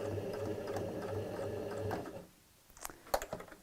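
A domestic sewing machine stitches around the corner of a tote bag in a quiet, steady run, then stops and gives way to a few soft clicks and handling sounds.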